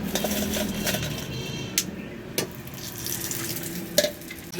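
Egg chops frying in hot oil give a steady close sizzle throughout, with a few sharp clinks of utensils against the pan.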